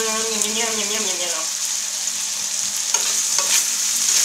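Chicken pieces being stirred as they fry in a pan for a stew with gravy, a steady close sizzle with scraping and clinking from the spoon, under a voice talking at the start.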